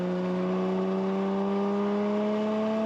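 A Lamborghini Aventador Ultimae with a valved valvetronic exhaust holds a steady, loud, droning engine note that rises slowly in pitch, heard close and unbroken with no talk over it.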